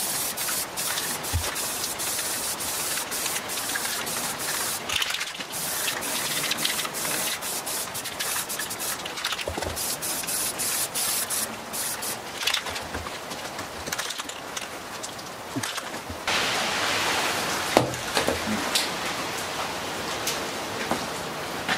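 Rust-Oleum tan spray paint hissing from an aerosol can onto a plate carrier in a garage, a steady continuous spray with brief pauses and rattling bursts, close and fairly loud, no talking.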